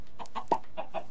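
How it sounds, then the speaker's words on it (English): Chickens on a chicken farm in the Minecraft video game cluck in a steady run of short, close, moderately loud clucks with no talk over them. "we've still got this old fashioned chicken farm."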